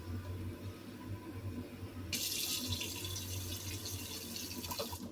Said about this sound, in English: Boiling hot water. Well, as hot as it gets from the tap.